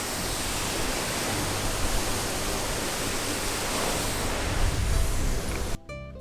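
Freshwater from a river pours as a waterfall onto a beach, a continuous loud rushing roar with no letup, cutting off abruptly at the end.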